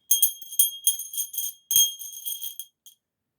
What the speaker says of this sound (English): Are you going to ring the Sunday school bell this morning?